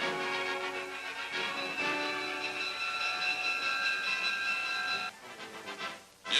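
A WWII-era steam train hisses and rumbles with sustained whistle-like tones, loud and continuous, ending with a burst of steam.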